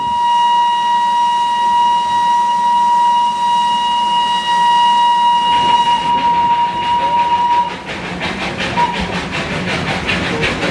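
A Darjeeling train sounds one long, steady, droning horn for several seconds, then the rhythmic clatter of the moving train takes over, loud and near.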